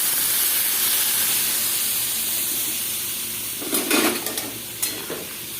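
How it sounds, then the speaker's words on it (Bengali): Curry sizzles steadily in a pan, then water is poured in, setting off a few sharp bursts of hissing steam and splashing over the continuous frying. "তো এবার এর মধ্যে জলটা দিয়ে দেবো।"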